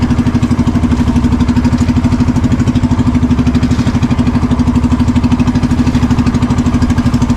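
A boat's engine idles steadily and close, its low, even throb running through the whole stretch with no voices over it, aboard a small banca that is taking on water near a volcano.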